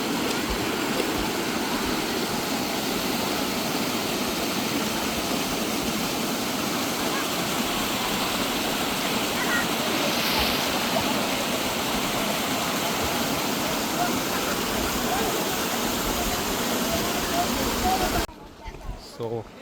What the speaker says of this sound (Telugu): సో ఇదనమాట కుసిరంపల్లి వాటర్ ఫాల్స్.